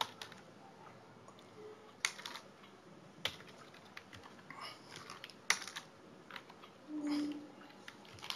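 Quiet typing on a computer keyboard, scattered individual keystrokes and a few sharper clicks spread over several seconds, close but faint, with no voice over them.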